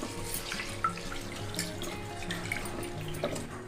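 Toor dal is rinsed under running tap water in a kitchen, with a steady, moderately quiet stream of water splashing and occasional soft clinks throughout.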